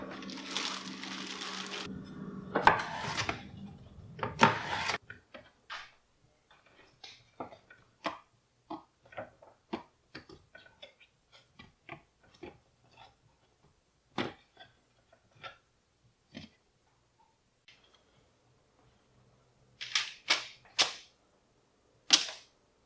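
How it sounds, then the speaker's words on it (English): A knife chopping potatoes on a cutting board, heard as a long run of sharp, separate taps at an irregular pace, with louder rustling or handling noises at the start and near the end. "I just cut my potatoes up"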